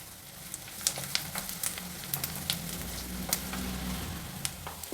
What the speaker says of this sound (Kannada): ಈರುಳ್ಳಿ ಮೆಣಸಿನ್ಕಾಯಿ ಎಲ್ಲ ಚೆನ್ನಾಗಿ ಬಾಡ್ತಾ ಇದೆ